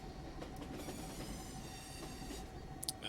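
A train in the Foxhole war game rolls along with a continuous rumbling clatter of wheels on rails, steady and fairly faint throughout, with a brief squeal near the end.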